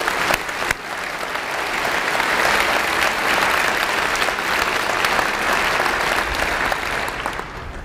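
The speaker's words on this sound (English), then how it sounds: "So let's give those high schools a round of applause as well." A large breakfast audience for a school district gives sustained applause, a thick continuous wash of clapping at steady loudness that tapers only slightly near the end.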